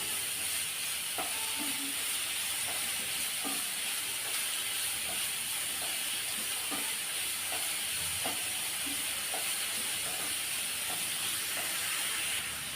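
Capsicum and grated cauliflower sauté in hot oil, giving a loud, continuous hiss and sizzle with faint intermittent scrapes of a spatula. No voices.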